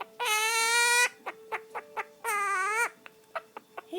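Quaker parrot mimicking a chicken, two long, loud, strained squawks separated and followed by short sharp clucking chirps, close to the listener with no talking.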